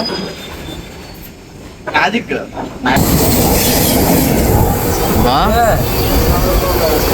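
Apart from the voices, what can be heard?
train arriving at station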